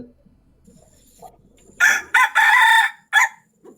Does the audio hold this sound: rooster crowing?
yes